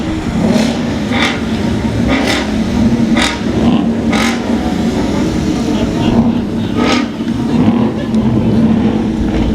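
Mustang Car Club of Omaha cars drive past in a veterans parade, a loud continuous engine roar with repeated revving bursts close by, under steady outdoor crowd noise.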